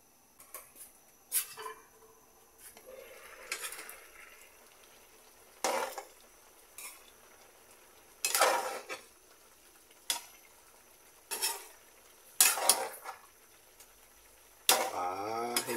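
Intermittent scraping and clinking of a spoon stirring squash in coconut milk in a pot, short bursts separated by quiet pauses, close by.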